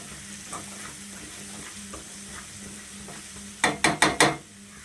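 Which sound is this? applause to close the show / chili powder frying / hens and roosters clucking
chili powder frying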